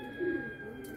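A racing pigeon gives a single short, low coo close by, set against a quiet background with a faint steady tone.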